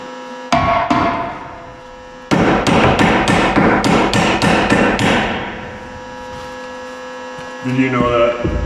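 A quick series of loud metal hammer blows, first a single strike then about ten rapid hits, over an electrical hum, with a voice speaking at the end.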